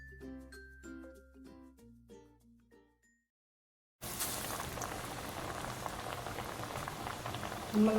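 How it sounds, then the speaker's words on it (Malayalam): Parippu vada, Kerala lentil fritters, fry in deep coconut oil in a kadai, giving a dense, even bubbling sizzle close by. It starts after a few seconds of tonal musical notes and silence. "ഇതുപോലെ ഓരോന്നും ആക്കിയിട്ട് നമ്മൾ എണ്ണയിലേക്ക് ഡ്രോപ്പ് ചെയ്താൽ മതി"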